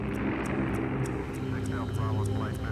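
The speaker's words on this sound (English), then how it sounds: "At 10 p.m., RAF Pathfinder planes swoop down on the city." RAF Pathfinder aircraft from the Second World War fly over a city, a steady, dense engine drone that holds throughout with a faint rhythmic pulsing.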